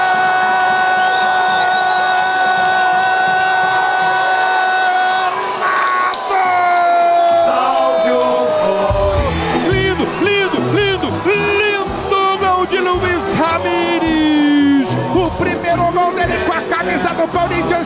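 Corinthians supporters at a 2011 Paulistão match against São Bernardo: a dense stadium crowd roars and chants continuously, with whistles and rising pitched shouts cutting through the noise.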